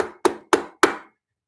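Three sharp metallic taps of a hammer or wrench on the carburetor float bowl of a Honda CB360 motorcycle, evenly spaced and close, each ringing briefly before the next, then silence.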